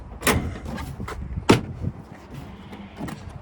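Rear seat of a 2024 Chevrolet Silverado EV RST folding up, giving two sharp clunks about a second apart, the second the loudest, with softer knocks and rustles around them and no talk.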